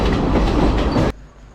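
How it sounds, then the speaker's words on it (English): A train bound for Kandy, Sri Lanka rumbles and clatters along the rails, with a loud, dense rolling of wheels that cuts off abruptly near the end. "we caught the train finally"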